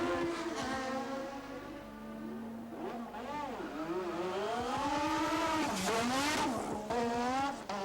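A 1987 Formula One car at the Australian Grand Prix rejoins the race after a pit stop, its high engine note rising and falling through gear changes with tyre squeal as it passes near and loud.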